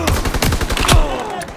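Rapid machine gun fire in the Call of Duty WW2 game, a loud, close burst of tightly packed shots rattling continuously, then tailing off into a fading echo.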